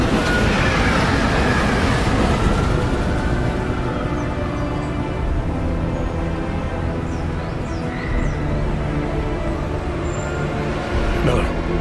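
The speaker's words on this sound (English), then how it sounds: "Just getting off the train now." Train ride in the video game Deus Ex Mankind Divided, a loud rolling rumble of railcars with rhythmic wheel clatter and a few high squeals, heard alongside speech and music-like tones.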